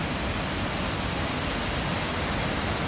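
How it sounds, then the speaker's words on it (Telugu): Firehole Falls in Yellowstone roars as a dense, unbroken wash of rushing water, loud and close throughout, with no voices over it. "ఆ సెలయేళ్ళ హోర్ చూడండి ఎలా ఉందో,"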